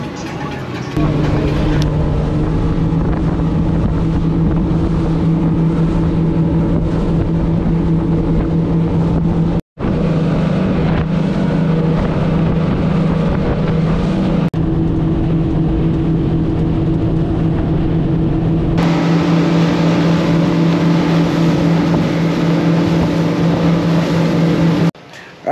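A motorboat engine drones steadily and loudly while cruising through a busy channel off Islamorada on Memorial Day weekend, a constant hum with wind noise and a brief cut midway.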